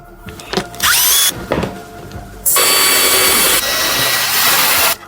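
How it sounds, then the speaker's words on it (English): A small electric drill whirs in short bursts, then runs steadily for a couple of seconds as it bores a preliminary hole for mounting a surveillance camera, loud and close. "I'll begin by using a small drill to make a preliminary hole."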